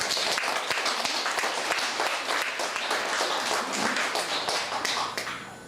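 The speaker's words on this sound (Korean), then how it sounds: "우리 두 분에게 큰 박수를 한번 부탁드리겠습니다." An audience at a Korean lecture for high-school filial-piety instructors bursts into sustained applause, a dense, steady wash of many hands clapping that holds for several seconds before thinning slightly at the end.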